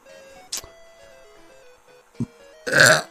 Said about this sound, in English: I don't mean to burp, but it's gonna happen.